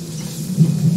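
Stormy rumble of thunder with rain in a video game, a continuous low roll for about a second with a swell midway, heard alone without talk.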